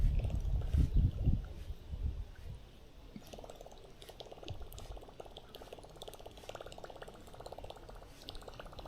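A topwater lure pops and splashes across the surface while fishing for catfish and carp, loud gurgling bursts at first, then quieter, scattered plops and trickles.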